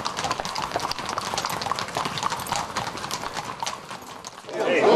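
Horse hooves clip-clop in a quick, continuous rhythm, close and clear, on a Slovenian farm where horses once worked in the forest and are now kept for sport; a louder, rougher noise swells at the very end.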